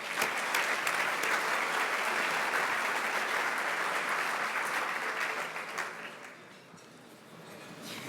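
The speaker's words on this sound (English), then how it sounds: "Please join me in acknowledging our sponsors for one last round of applause." Guests at a leadership dinner with the NSA director give a long round of applause for sponsors, dense steady clapping that holds for several seconds, then thins and fades toward the end.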